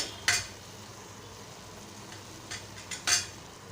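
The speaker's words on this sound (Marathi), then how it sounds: "आता मी ह्याच्यावर ओल्या नाळ्याचं खोबरं घालत आहे" Fresh grated coconut stirred into red pumpkin vegetable frying over a low flame, Malvani-style, with a few short spoon scrapes and clinks against the pan over a faint, steady background.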